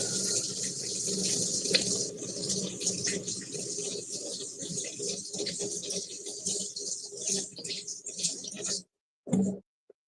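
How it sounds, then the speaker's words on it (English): Tap water runs into a sink while hands are washed, a steady close hissing splash lasting about nine seconds before it cuts off, followed by one brief final burst. "stick this in the sink. Wash my hands up this way."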